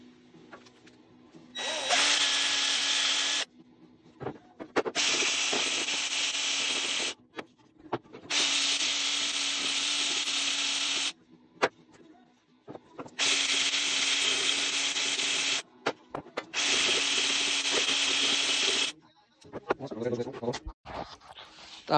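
A power tool sanding a wooden workpiece runs in five loud, steady bursts of a few seconds each, separated by short pauses with quieter handling noises, recorded up close indoors.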